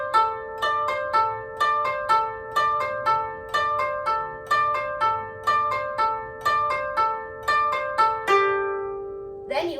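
A koto plucks strings 10, 9, 8 and 7 in a steady descending run with no pauses, the four-note pattern repeating with ringing, overlapping tones, ending on a sustained note, played alone.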